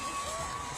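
Crowd noise at the 2022 Atlanta Pride Parade, a steady wash of cheering and chatter from many people, moderately distant and continuous with no single standout shout.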